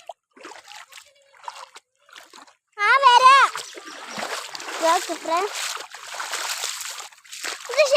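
Feet splash and slosh through knee-deep rainwater after a heavy downpour, a burst of close, loud watery churning that comes and goes, with a person talking throughout.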